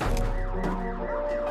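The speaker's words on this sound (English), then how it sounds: "Why does the school building have a car alarm?" A car alarm blares from a film scene, a loud continuous warbling electronic tone running steadily through the short stretch with no voices.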